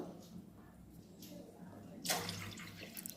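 Water splashes and pours steadily into a pot for about a second, a broadband rush that then settles into a quieter trickle over a low background hum.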